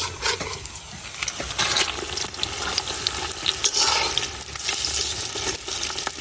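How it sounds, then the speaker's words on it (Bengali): Potato pakoras with green chili and onion are turned over in bubbling hot oil, a close, constant sizzle broken by scraping and stirring clatter. "গুলা একটা সাইড ভাজা হয়ে গেছে এখন আমি উল্টাইয়া দিয়াম"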